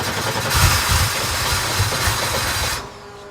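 An off-road race truck's engine running with a loud, rough, broadband roar and low rumbling pulses that hold steady, then cut off abruptly near the end.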